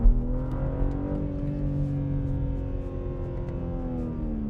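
BMW M3 Touring wagon with the S58 engine and 8-speed automatic accelerating, a loud steady engine drone rising gently in pitch, close and continuous with no talk.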